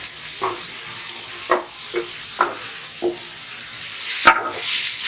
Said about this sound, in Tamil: இதை நல்லா கலக்கி விடுங்க.